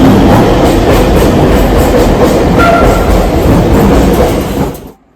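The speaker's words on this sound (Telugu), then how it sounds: "అలాగే పక్కనే MMTS రైలు ప్లాట్ఫామ్ 1 నుంచి వెళ్తూ ఉంది." An MMTS commuter train pulls past platform 1 at Kacheguda railway station in Hyderabad, its loud, steady rumble and rattling carriages close by before the sound cuts off abruptly at the end.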